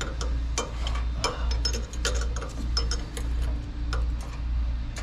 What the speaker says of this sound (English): I'm going to use this little curvy wrench right here to see if we can get that bolt in the back